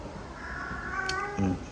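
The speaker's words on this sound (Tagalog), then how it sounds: "Okay na yung mga pusa dito. Nag-aaway pa sila." Cats squabbling with a drawn-out meow and a low growl, medium-near, with a steady room hum behind and no talk.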